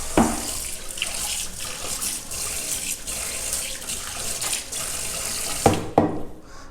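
Tap water runs steadily into a kitchen sink while a garlic-handling utensil is rinsed, a constant close hiss and splatter with a few louder clunks near the end before the flow cuts off.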